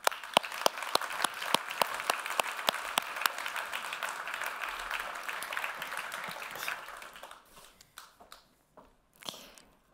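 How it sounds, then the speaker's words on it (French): Crowd at a business forum round-table applauds panel guests walking on stage, dense clapping with sharp individual claps on top, fading after about seven seconds into scattered last claps. "On les applaudit bien fort."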